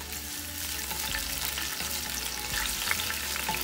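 Garlic frying in olive oil in a pan, a steady dense sizzle with occasional stirring scrapes, close and fairly loud throughout with no talking.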